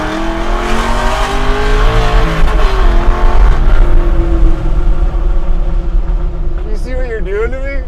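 A 745 hp Hellcat-powered Chevy C10 truck accelerates hard with its tires spinning, the engine roaring loud and close and rising in pitch near the end, while people talk over it.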